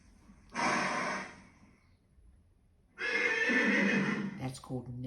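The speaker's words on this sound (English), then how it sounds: "That's called neighing." Horse neighing in two loud whinnies separated by a short pause, the second longer and ending in snorting breaths, close by.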